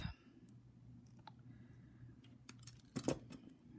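Wire-cutter snips trimming the tail of copper-toned wire on a wire-wrapped owl pendant, a few quiet clicks near the start and a sharper cluster of cuts late, close up in a still room.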